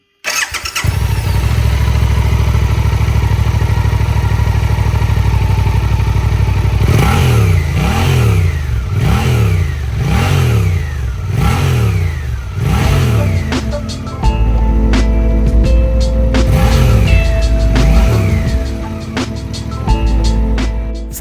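A 2024 Suzuki GSX-8R on its stock exhaust idles up close, then is blipped in a series of sharp, evenly spaced revs that rise and fall, followed by a few more throttle bursts before settling back to idle.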